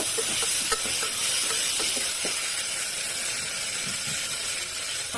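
Tomatoes and vegetables cook in a pan for dill pulao, giving a soft steady sizzle with scattered light stirring scrapes and clicks, fairly quiet and with no talking.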